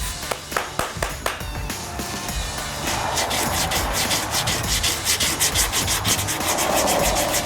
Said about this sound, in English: now that we're done with sanding with the 80